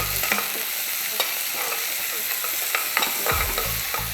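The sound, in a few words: onions sautéing in oil in a pan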